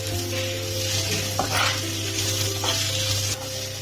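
A spatula stirs a mixture for potato palya in a sizzling pan, with a continuous frying hiss, a steady low hum underneath and a few scraping strokes against the pan.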